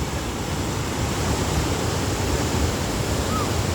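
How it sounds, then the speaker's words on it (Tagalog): Loud, constant rush of a churning flooded river, a broad unbroken roar that fills the whole clip without letting up. "Talagang nagwawala yung tubig."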